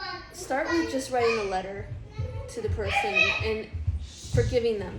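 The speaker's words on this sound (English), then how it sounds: "If you hear kids in the background." Children play and chatter in the background of a home interview while someone speaks steadily in the foreground, with the kids' voices and occasional giggles rising faintly behind her talk.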